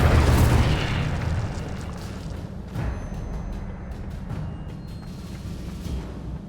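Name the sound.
Incendio fire spell blast in the video game Hogwarts Legacy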